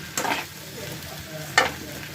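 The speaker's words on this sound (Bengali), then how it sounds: "এবার একটু হালকা করে ভাজা ভাজা করে নেব" Atta noodles lightly frying in a pan, a soft steady sizzle broken by two brief scraping stirs.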